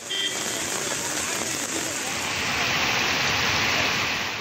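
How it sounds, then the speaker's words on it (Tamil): Heavy summer rain pours down in Tamil Nadu, a dense continuous hiss of drops drumming on surfaces that holds steady and loud throughout, with no voices over it. "நான்காவது நாளாக கனமழை பொழிந்தது"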